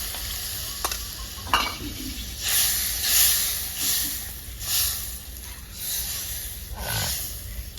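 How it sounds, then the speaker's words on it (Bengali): Curry water for a Bengali rui fish posto dish bubbling and simmering in a pan, a steady close hiss and sizzle with occasional stirring clinks, no talking. "ফুটে গেছে জল"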